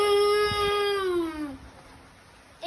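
A young child vocally imitates a Bugatti car with a single high, drawn-out voiced tone that slides downward over about a second and a half, then trails off into quiet.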